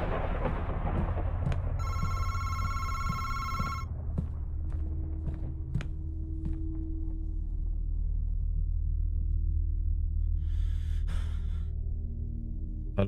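Telephone ringing in the video game Madison, a bright electronic ring burst lasting about two seconds, with another shorter ring later over a low rumbling ambience and scattered thuds.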